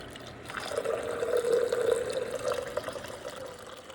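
About 1,000 grams of water is poured into a French press, a steady close pour and fill lasting a few seconds with no talk.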